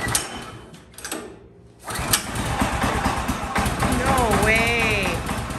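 Fresh small engine on a Woodland HM126 sawmill is pull-started: a ratchety cord yank, a pause, then the motor catches and runs in a busy rattling putter, with a short spoken exclamation and a brief whistle-like tone over it.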